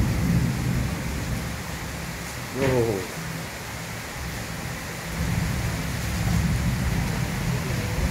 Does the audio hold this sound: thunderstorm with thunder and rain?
yes